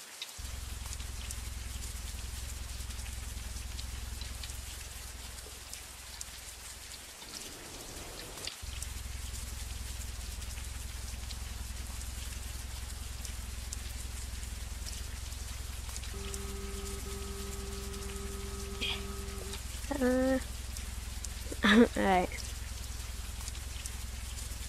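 Rain patters softly in the Brick Rigs video game on a deep underwater ocean map, a continuous faint hiss over a steady low rumble, with a few brief tonal game effects and clicks near the end.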